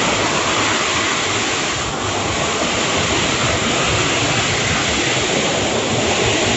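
Mountain water of the Thanh Long stream rushes steadily and loudly, a continuous broadband roar like a small waterfall with no pauses, close to the listener.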